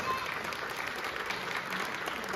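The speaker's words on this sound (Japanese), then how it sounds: "改めて大きな拍手をお願いいたします。" An audience at a player's retirement ceremony gives steady, continuous applause, moderately loud and even for the whole short stretch.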